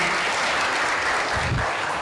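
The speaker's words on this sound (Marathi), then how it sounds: "जोरदार टाळ्या झाला पाहिजे" An audience at a village temple game event applauds, a dense, steady wash of many hands clapping at close range with no pause.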